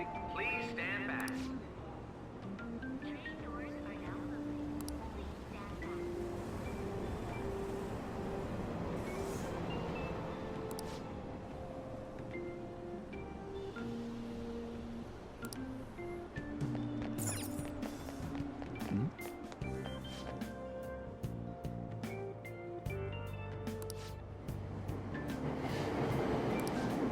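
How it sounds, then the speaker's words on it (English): A subway train in the Persona 5 Royal video game pulls out of a station with a steady rumbling run and clattering rail noise. Announcement-like speech and tonal game sounds are layered over it throughout. "Train doors are now closing. Please stand back."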